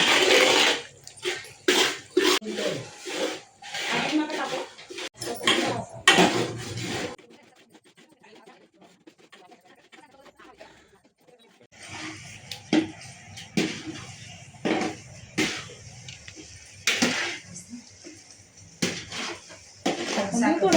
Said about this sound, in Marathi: आज सत्यनारायणची पूजा आहे म्हणून आम्ही प्रसाद भाजत आहे